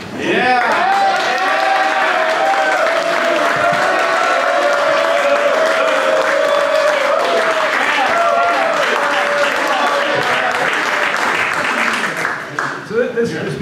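An audience at an outdoor pitch event at a riverside garden breaks into loud, sustained applause, a dense wash of many hands clapping that continues for over ten seconds before tapering off at the end.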